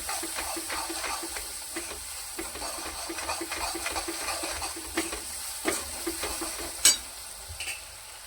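Masala with tomato frying in a pan, a constant close sizzle broken by repeated scraping stirs of a spoon and a sharper clink of metal near the end.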